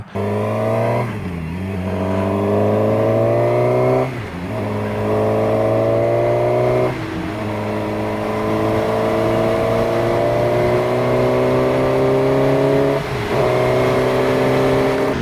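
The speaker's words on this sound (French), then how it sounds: "J'adore ce rugissement de ce petit moteur 4 cylindres." A small four-cylinder QJ Motor SRK 421 RR motorcycle engine roars loudly, revving up through the gears in rising sweeps, with brief dips at each of several shifts.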